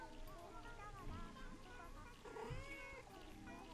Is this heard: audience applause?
no